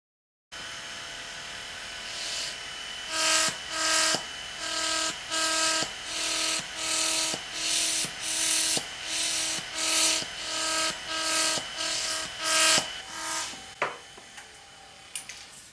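A spinning siren disc, a wheel with holes of different sizes, gives a series of about a dozen pulsing tonal wails in a steady rhythm. Each burst swells and fades, loud and close, with no talk.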